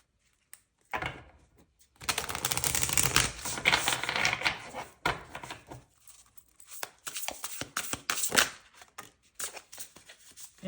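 Tarot cards are shuffled in close, crisp bursts of riffling and flicking, a long dense run followed by shorter irregular snaps and slides, with no voices.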